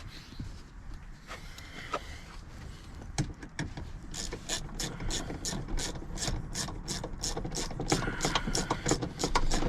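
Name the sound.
ratchet tightening Ford Flex seat belt bolts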